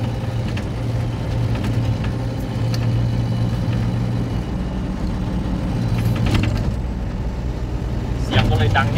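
Heard from inside the cab, a backhoe excavator with a broken exhaust pipe idles loudly with a constant low rumble and brief rattles, while someone speaks over the engine.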